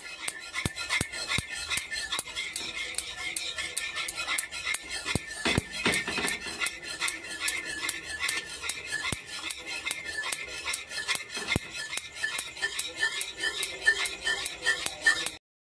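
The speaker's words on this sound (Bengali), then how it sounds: "এবার আমি এটা দিয়ে ভালো করে মিশিয়ে দেব।" A spoon stirs sour yogurt into a cooled sweet yogurt mixture, scraping and clinking steadily against the bowl in quick repeated strokes, close and fairly loud throughout with no talking.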